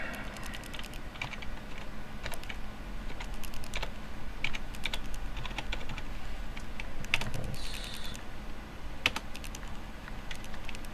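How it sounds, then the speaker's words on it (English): Steady, uneven clicking of a computer keyboard being typed on one-handed, close and moderately quiet, with scattered sharper key strikes and no talking. "This is going to take forever because I'm typing with one hand"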